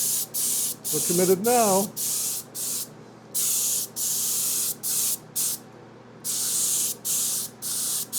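Short bursts of a spray can coating a Depron model aircraft wing black, hissing in repeated on-off passes with brief gaps, close by, and someone speaking briefly partway through.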